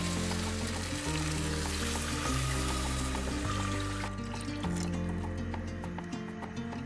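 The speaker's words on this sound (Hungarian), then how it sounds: "és felöntjük vízzel" Water is poured into a pot to cover ingredients for a Hungarian vegan fish-soup-style dish, giving a steady splashing, filling rush with faint sizzling and bubbling beneath, ending in quieter trickles.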